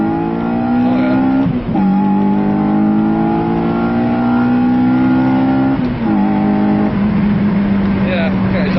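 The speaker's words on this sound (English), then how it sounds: "it'll kick in and you'll hear the engine change tone" Honda Civic EP3 Type R engine accelerating hard through the gears, a loud rising drone that climbs steadily, dips at a gear change, then climbs again, with people talking over it.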